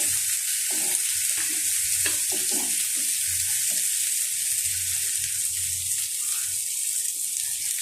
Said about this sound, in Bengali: এখন আমি এখানে আদা রসুন আর জিরা বাটাটা দিয়ে দিলাম